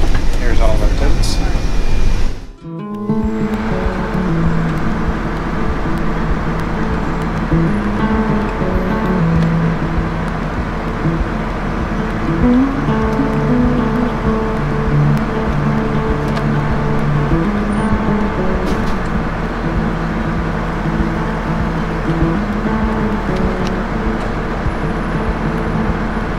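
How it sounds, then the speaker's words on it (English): A rough-riding airport shuttle bus travels to the terminal, its engine and road rumble forming a steady, loud drone with cabin noise and occasional rattles, heard from inside after a brief thump at the start. "we are on our way in the rough riding shuttle to the terminal"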